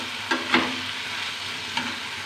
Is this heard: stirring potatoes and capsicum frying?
yes